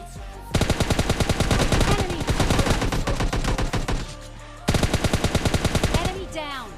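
Automatic rifle fire from the PUBG battle royale video game: rapid, loud bursts of gunshots in quick rhythmic succession, a brief pause, then another burst and scattered echoing shots near the end.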